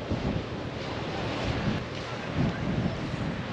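Small, gentle ocean waves wash ashore at Back Beach in Bunbury, a steady broadband surf rumble with wind buffeting the microphone throughout.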